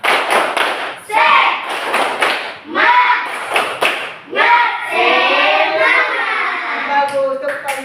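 A classroom of children doing a rhythmic clapping chant, a group 'tepuk semangat' clap, with clustered hand claps mixed in among loud young voices calling out together.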